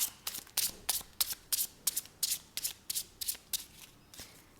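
Tarot cards shuffled and drawn by hand, a steady run of about a dozen crisp riffling bursts at a brisk, even rhythm, close and fairly quiet with no talking.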